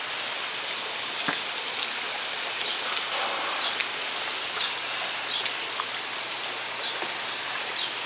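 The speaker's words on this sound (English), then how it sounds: "the mist is hitting the part of the frame on the cage, so it's raining a lot" Misting system in a walk-in aviary spraying water onto a cage frame, a steady close hiss like rain with scattered droplet ticks and pattering throughout, no talking.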